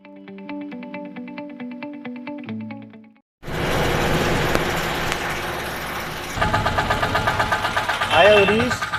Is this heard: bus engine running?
yes